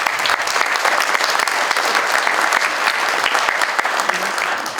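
An audience at a New Year's town hall ceremony in Peymeinade claps steadily and densely throughout, a loud sustained round of applause with no break.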